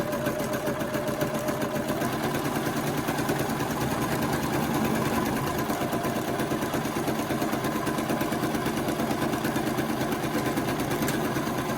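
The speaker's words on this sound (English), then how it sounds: "you're going to sew together one side of it. So we're going to make a seam in one side" A sewing machine runs steadily while stitching a seam on a homemade fabric face mask, a quiet, continuous mechanical whirr with a fine rapid rattle from start to finish.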